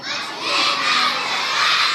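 Schoolchildren at an elementary school sports meet shout and cheer together as a loud, sustained crowd roar, dense and continuous for the whole moment.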